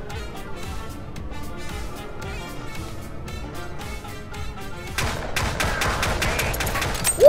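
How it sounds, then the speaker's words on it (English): Rapid gunfire in the VR multiplayer game Hover Junkers: a steady, dense rattle of shots that grows louder and busier halfway through, with no voices. "Oh god, I'm getting shot at."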